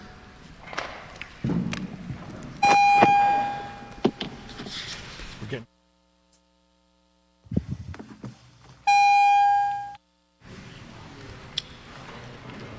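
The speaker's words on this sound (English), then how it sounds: "The 1 hour provided for the ringing of the division bells has expired." Parliamentary division bells in the House of Commons ring during a recorded vote, sounding as two sustained electric bell tones, each about a second long, separated by pauses, with chamber murmur and talk around them.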